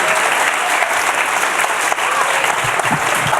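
Steady, full applause from a music industry forum audience greeting a guest before an interview, continuous dense clapping with no break.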